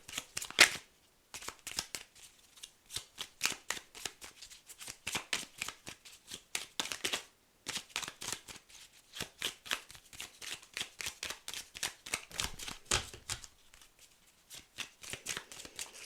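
Oracle cards shuffled by hand at close range, giving rapid, crisp riffling bursts in quick succession that continue almost without pause throughout.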